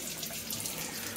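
Water poured from a tap onto a wooden butcher block countertop makes a steady, close splashing rush with no talking.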